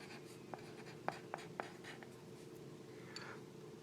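A green colored pencil scratches across paper while a math problem is worked, with faint scraping strokes broken by several light ticks and taps as the tip lifts and lands.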